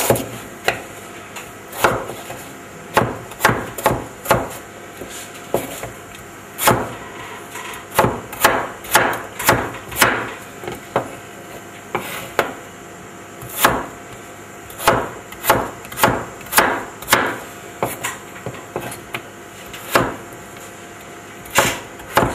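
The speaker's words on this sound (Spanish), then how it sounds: "Para mayor seguridad, vamos a cortar la papa en una madera." A knife chops a potato on a wooden board in a kitchen, a long run of sharp, close knocks coming in irregular bursts with short pauses, no talking.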